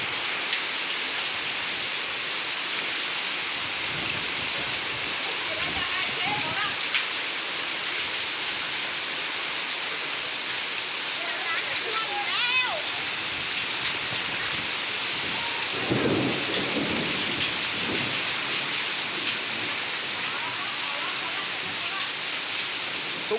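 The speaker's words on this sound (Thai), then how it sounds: "ฝนตกหนักมากเลยครับผม" Heavy rain pours down over a house in a strong-wind storm with hail, a dense steady roar throughout with rumbles of thunder mixed in and faint talk under it.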